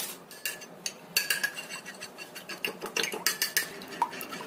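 Eggs with mushroom stock powder and a little pepper are whisked in a bowl, making quick, rhythmic metallic clinks and taps against the bowl, fairly faint and close, with no speech.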